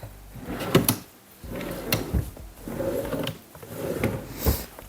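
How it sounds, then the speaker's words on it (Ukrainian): A drawer built into the armrest of a sofa slides open and shut several times, giving soft, close scrapes and bumps with short pauses between them. "В одній з билиць дивану є шухляди для дрібничок."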